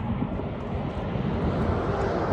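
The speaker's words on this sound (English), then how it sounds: "get this drone up in the air" A drone is flying outdoors near Wilson Arch. A steady, broadband engine roar with some wind noise runs throughout and stays fairly loud.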